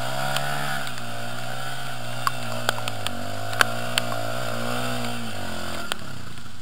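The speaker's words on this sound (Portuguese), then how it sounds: "quer que eu suba a moto com você?" A motorcycle engine idles and revs outdoors before a trail ride, a steady nearby drone with slowly rising and falling pitch and a few sharp clicks and knocks over it, with no talk.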